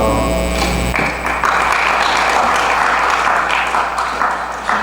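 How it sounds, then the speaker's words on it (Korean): After a brief tonal hum, audience applause breaks out at an academic conference session for two presenters, a dense, sustained clatter of hands that carries on to the end. "두 전원 학자분들에게 아주 큰 박수 보내주십니다."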